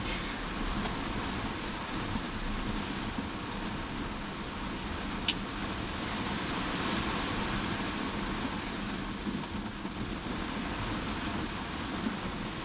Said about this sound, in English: That rain's horrible.